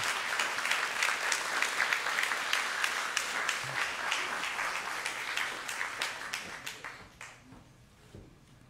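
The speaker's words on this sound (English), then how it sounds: "Can we have another round of applause for Carlton, please, and his work?" An audience applauds a photographer's presentation on Florida panther conservation: sustained dense clapping with individual sharp claps standing out, thinning and fading away toward the end.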